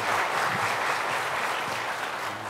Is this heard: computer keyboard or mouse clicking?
no